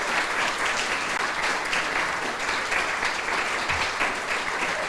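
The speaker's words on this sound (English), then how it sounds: "Give them a warm round of applause." Warm applause from an audience at a campus naming ceremony, greeting family members as they stand, steady and full for several seconds with no talking.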